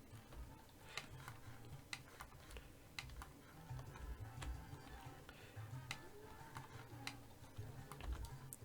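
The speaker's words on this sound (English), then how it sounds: "Typing with his text editor in full screen, no scroll bars or anything." A Sim in The Sims 2 types on a computer keyboard, making faint, sharp key clicks that come in an even, spaced rhythm over a soft background hum.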